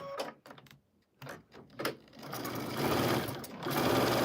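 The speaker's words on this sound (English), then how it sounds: "I am going to be sewing these pieces together." Home sewing machine joining quilt pieces, its motor whirring in short bursts at first, then running in a longer steady stretch of stitching, close and fairly loud with no talking.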